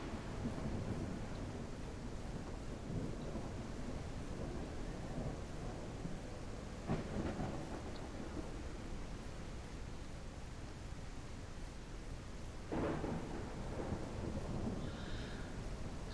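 Thunderstorm with rain in the farming game Ranch Sim, a steady wash of rain hiss with two distant thunder rumbles rolling through, no talking.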